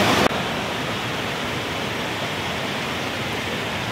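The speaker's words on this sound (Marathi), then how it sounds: "डोंगराच्या कुशीत बघा ना कसला फेसाळणारा धबधबा वाटतोय हा" Foaming waterfall tumbling down a hillside, a dense, steady roar of rushing water that holds constant throughout, with no voices over it.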